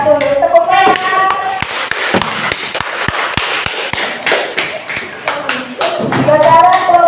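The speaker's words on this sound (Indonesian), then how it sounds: "Tepuk tangan." Students in a classroom clap for a group after its presentation, loud with voices over it, then a spell of sharp, fairly regular claps in the middle, chatter returning at the end.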